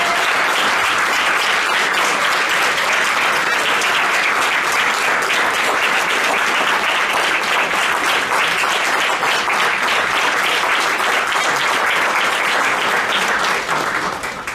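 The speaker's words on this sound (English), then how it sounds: "you're going to get a round of applause, too" Loud, sustained applause fills a city council meeting chamber, dense clapping from a large crowd holding steady for about fourteen seconds before beginning to fade at the end.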